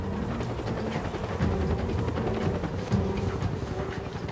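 A low, rhythmic thudding chop from a helicopter passing overhead in a snowstorm, loud and close with a fast pulse over wind noise, steady throughout.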